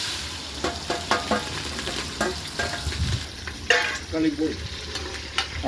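Spices crackle and sizzle in hot oil at a roadside gas-stove cooking setup, with stirring scrapes and bursts of spitting, close and fairly loud, no talking.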